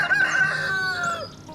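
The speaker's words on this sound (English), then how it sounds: "he kept hearing soft clucking that didn't sound like the others" A chicken lets out one close, loud, drawn-out call lasting over a second, ringing then fading, outdoors among a backyard flock near a hazelnut bush.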